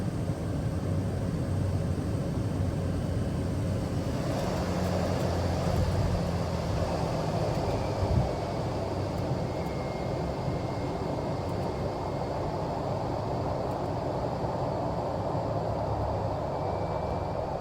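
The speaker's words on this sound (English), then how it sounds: "Once we round out and come to the runway, I will pitch the nose upwards to flare and then put the power lever to idle." A Susi Air turboprop airplane landing at Dabo Singkep, Indonesia, with the power lever pulled to idle; a steady, loud cabin drone of engine and airflow runs throughout, with a brief thump near the middle.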